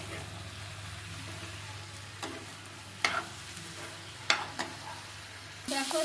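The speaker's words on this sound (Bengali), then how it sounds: "ঢাকনাটা সরিয়ে একটু নেড়ে দিচ্ছি" Ash gourd curry with bori is stirred in a pan after its lid is lifted: a few scattered scrapes and clinks over a soft, steady sizzle and low hum, with no talking.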